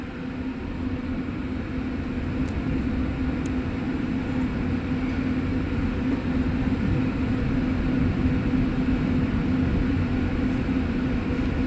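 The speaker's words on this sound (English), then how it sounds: "I'll try to get a video of this train heading into the tunnel through the glass" REM Deux-Montagnes test train rumbling into a tunnel, a steady, loud low roar with a constant hum that holds evenly throughout, heard from inside through glass.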